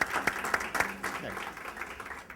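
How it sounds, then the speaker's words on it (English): A short round of audience applause for NYU and Polytechnic at the opening of a Brooklyn business summit. The scattered, moderately loud clapping is mixed with talking voices. "If I can have a round of applause for NYU and Polytechnic."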